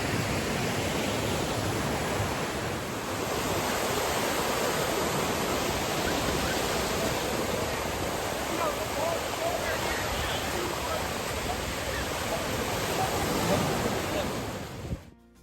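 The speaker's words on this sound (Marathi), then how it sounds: "मोठ्या मोठ्या लाटा येत आहेत." Big ocean waves roll in on Port Stanley beach near Toronto, a loud continuous wash of surf and roaring water that fills the whole stretch and fades at the very end.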